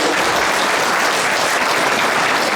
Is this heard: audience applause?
yes